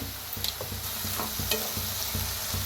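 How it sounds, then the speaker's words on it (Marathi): Drumstick pods roasting in a little oil with salt in a pan, giving a steady soft sizzle with faint stirring scrapes and clinks throughout. "आता त्याच्यात थोडंसं तेल ओतून भाजूया"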